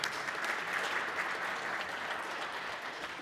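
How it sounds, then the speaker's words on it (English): An audience claps for a group of presenters at a theology and culture talk: steady, dense applause at moderate volume, holding evenly for a few seconds with no voices on top. "yeah, we can clap for them."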